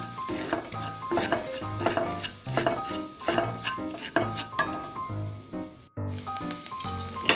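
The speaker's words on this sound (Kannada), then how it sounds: "ಈಗ ನೋಡಿ ನಾನು ರವೆ ಹಾಕ್ತಾಯಿದ್ದೀನಿ ಹಾಕ್ಬಿಟ್ಟು ಚೆನ್ನಾಗಿ ಹುರಿತೀನಿ ಇದನ್ನು" Semolina (rava) being dry-roasted in a pan, with a steady run of scraping stir strokes and light rustling grains, close and fairly loud, broken briefly by a pause near the end; no one speaks.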